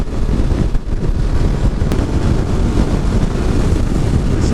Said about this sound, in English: There's a bit of wind buffeting here.